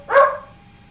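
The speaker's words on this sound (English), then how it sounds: "I'm sorry, my dog is going crazy." A single sharp dog bark, short and loud near the microphone, followed by a faint lingering electronic hum and otherwise quiet.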